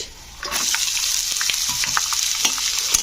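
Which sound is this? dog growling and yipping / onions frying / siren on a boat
onions frying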